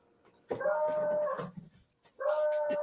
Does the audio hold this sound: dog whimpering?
yes